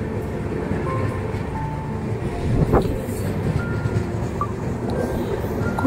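A train runs along a curving track past open fields, giving a steady, close rumble of wheels and carriages with a brief sharper clank or squeal midway.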